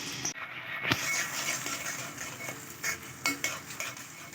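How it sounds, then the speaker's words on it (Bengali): A spiced tamarind mixture is poured into hot mustard oil and sizzles steadily in the pan, with occasional spoon scrapes and stirring clatter over the continuous frying hiss. "যে তেঁতুলটা মেখে রেখেছিলাম সব মশলা দিয়ে সেটা এখন ঢেলে দিচ্ছি।"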